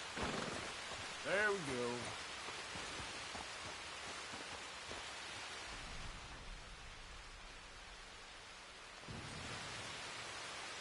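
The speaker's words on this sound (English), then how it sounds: "it's properly raining outside" Steady rain pours outdoors in Red Dead Redemption 2 while a character sheltering under cover with a horse waits; a continuous hiss of rainfall fills the scene, with a brief spoken line near the start.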